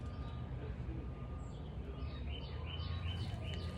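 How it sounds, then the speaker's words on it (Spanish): Birds sing outdoors, a few scattered chirps and short whistled phrases, fairly faint and distant over a steady low rumble of background noise. "yo estoy aquí donde están cantando aves"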